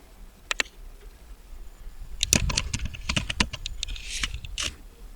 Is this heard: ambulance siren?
no